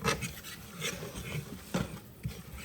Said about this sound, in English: You just stir it. And you want to stir it continuously. Don't use a whisk, use a fork,